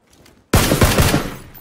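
A rapid, loud burst of automatic gunfire from a first-person squad shooter game opens abruptly after a quiet half second. It continues as dense, close, repeated shots.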